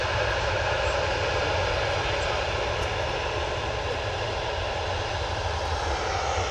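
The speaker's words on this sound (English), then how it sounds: "Ryanair's off to Eindhoven." A Ryanair Boeing 737-800 jet takes off from Manchester Airport bound for Eindhoven, its engines making a loud, continuous roar that holds steady throughout.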